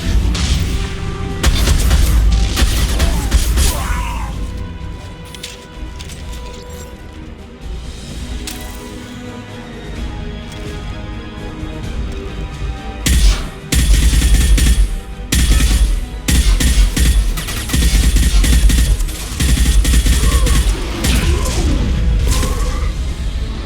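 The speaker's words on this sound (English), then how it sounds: "A misplaced shot can cause a significant explosion." Unstable crates explode in the video game Mass Effect 2, set on the planet Tuchanka. Several loud, heavy booms and blasts go off in clusters over game background noise, with a dense run of bursts toward the end.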